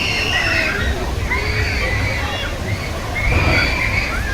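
Water sloshes and splashes steadily around a round raft boat on the Colorado river rapids ride at Liseberg amusement park, with a continuous wash of churning water and faint crowd chatter in the background.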